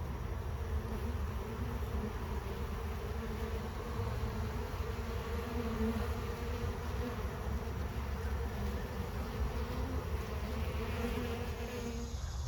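Honey bees hum in a steady, dense drone around an open hive with a cedar super on a farm, the buzzing continuous and close throughout with no talking.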